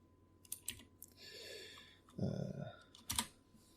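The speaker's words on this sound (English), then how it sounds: "I'll just type in paintball" Clicking keystrokes on a computer keyboard as a search word is entered, short bursts of taps near the mic alongside brief faint talk.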